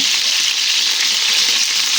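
Chicken pieces frying in hot oil give a loud, continuous, dense sizzle that stays even throughout with no voices.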